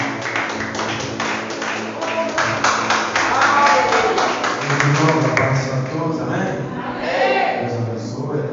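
A church congregation at a family service claps rhythmically, a brisk beat of many hands running beneath a voice speaking and singing over it.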